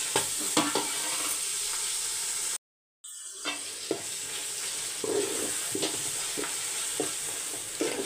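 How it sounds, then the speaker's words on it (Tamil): Homemade yogurt is mixed by spoon into seasoned rice, with repeated clinks and scrapes of the utensil against the vessel over a soft background hiss, close by and interrupted by a brief gap of silence. "தயிர் போட்டு மிக்ஸ் பண்ணிக்கலாம்."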